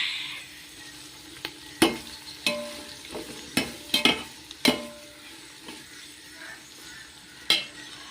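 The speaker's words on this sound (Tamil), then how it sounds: "இப்போ தக்காளி போடுறேன். தக்காளி போட்டு நல்லா வதங்கணும்." Tomatoes sauté in a pan for dum biryani with a soft, steady sizzle, broken by sharp scrapes and clinks of a stirring spoon against the pan every second or so, close up with no talking.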